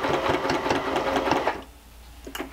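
Sewing machine stitching the facing of a polo shirt collar, a rapid close burst of needle strokes running about a second and a half, then stopping with a few faint clicks.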